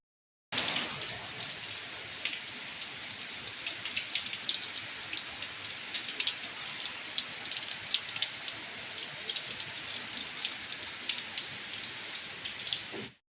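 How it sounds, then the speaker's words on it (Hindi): Heavy overnight rain pours steadily, a dense continuous hiss of drops drumming on surfaces nearby, loud and unbroken throughout with no voices. "देखा आपने कितनी तेज़ बारिश हो रही है। रात से बहुत बारिश हो रही है"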